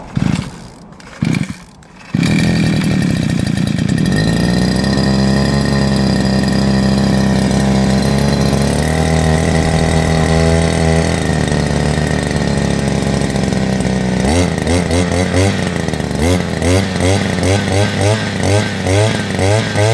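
A petrol engine is started with a pull-cord starter: two or three short sharp pulls, then the engine catches and idles loudly up close with a steady drone that wavers, and it revs unevenly toward the end.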